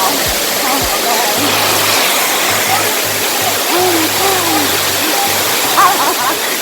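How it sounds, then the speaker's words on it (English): A waterfall at a Jamaican tourist spot roars steadily and loudly close by, with splashing water, faint voices of people around and brief bird-like calls over the rush. "These gorgeous waterfalls proved a perfect spot for Instagram photos."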